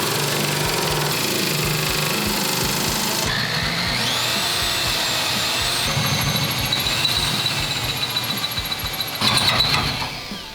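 A power drill with a 3/8 bit drills a divot into steel during a rear coil-over 4-link install on an 88-98 C1500, giving a loud, continuous grinding whine that rises and shifts in pitch as the bit bites, with no talk.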